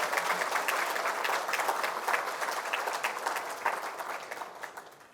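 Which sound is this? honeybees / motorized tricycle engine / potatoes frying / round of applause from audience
round of applause from audience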